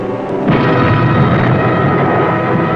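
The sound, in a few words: torpedo explosion hitting the battleship Royal Oak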